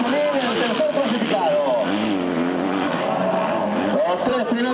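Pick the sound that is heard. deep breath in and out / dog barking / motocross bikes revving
motocross bikes revving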